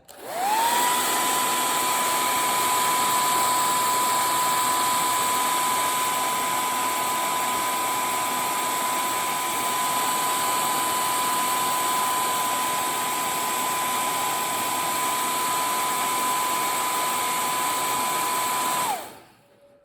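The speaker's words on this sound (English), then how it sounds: "hit it with the blow dryer." A hair dryer whirs at a constant high pitch for about twenty seconds, starting and stopping abruptly.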